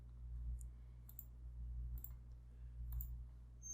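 Faint, sparse clicks from a computer mouse double-clicking in a repair-shop management program, a few soft taps spaced a second or so apart over a quiet background hum.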